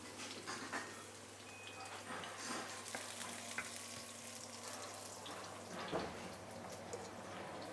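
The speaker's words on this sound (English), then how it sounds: "We're going to make some garlic and shallot oil." Garlic and shallots fry in oil with a steady, close crackling sizzle throughout, broken by occasional louder spits and stirring clatter, with a low background hum underneath.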